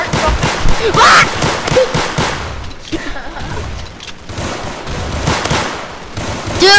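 Gunfire in the Roblox Zombie Rush game, loud rapid bursts of shots and booms over and over, mixed with players' voices and game noise.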